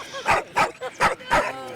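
Dogs bark indoors in a home: four sharp, loud, close barks in an even rhythm, with a lighter yelp in between.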